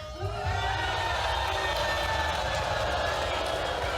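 A TV talk show studio audience on a paternity-test show cheers and shouts in a loud, sustained roar, with voices in the crowd mixed through it.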